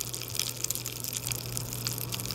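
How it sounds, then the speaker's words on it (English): Pop Rocks candy, hardened sugar syrup with trapped air, crackling as it dissolves in water: a steady dense fizz of tiny pops and crackles, close and fairly quiet, with no talking. "once the hardened syrup candy touches the water, it will dissolve. Thus, the air bubbles will pop."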